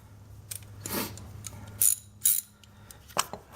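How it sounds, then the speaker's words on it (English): A ratchet loosens the ignition coil screws on a Ford Focus engine, producing a few short, close bursts of sharp clicking separated by brief pauses and a metallic clink. "So I'm going to use my ratchet"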